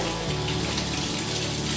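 Tap water runs steadily at a house while freshly shot game from a roebuck hunt is rinsed, a loud continuous splashing gush close up with no talk.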